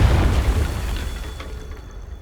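A booming Confringo blasting-spell explosion in a wizarding video game, loud and close, with a deep rumbling burst that slowly decays over a couple of seconds.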